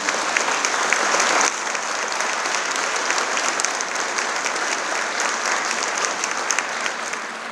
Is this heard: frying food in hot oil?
no